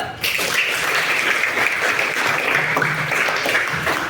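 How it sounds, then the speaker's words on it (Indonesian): Schoolchildren clap their hands together in a classroom, a dense, steady burst of many small hands that fills the room evenly for several seconds without pause, with no talking over it. "Kita tepuk tangan dulu."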